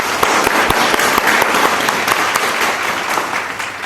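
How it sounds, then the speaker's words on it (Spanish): Warm, close applause at a book presentation, a dense patter of many hands clapping steadily for a few seconds without talk. "pido un fuerte y caluroso aplauso"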